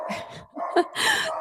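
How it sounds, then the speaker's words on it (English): A dog barks and whimpers close by in a short burst of yips and whines, loud and unaccompanied by voices. "Sorry for the dog again."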